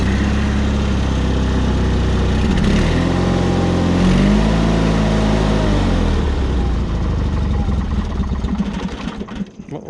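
A John Deere 318 lawn tractor engine with a dirty carburetor and the choke pulled, running loud and close, its pitch rising and falling through a couple of revs before the sound sputters and dies away at the end.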